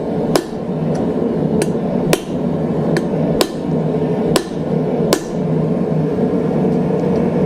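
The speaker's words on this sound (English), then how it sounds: "And then hammer back down." Seven sharp metallic hammer strikes on a punch driven into hot steel during hand forging ring out at irregular intervals over a steady, loud background roar, each blow crisp with a brief ringing tail.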